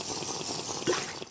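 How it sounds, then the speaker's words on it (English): Water poured into a glass bottle in Minecraft Bedrock Edition, a short, soft liquid filling sound with a brief bubbly gurgle near the end, heard alone. "Drinking from a glass bottle now emits the appropriate sound."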